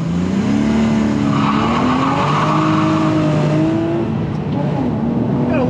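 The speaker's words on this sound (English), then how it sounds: "Got a little bit of wheel spin there." A Porsche 986 Boxster accelerating hard with brief wheel spin, its engine rising steadily through the revs with a faint tire squeal, loud and close throughout.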